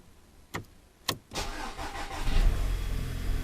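Audi A6 TFSI engine cranking with a couple of brief starter bursts, then catching and settling into a steady, fairly loud idle, with no talking.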